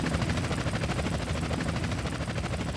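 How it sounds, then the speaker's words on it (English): A helicopter chases close behind in Grand Theft Auto San Andreas, its rotor thumping in a loud, steady pulsing drone throughout. "Got a chopper on our tail."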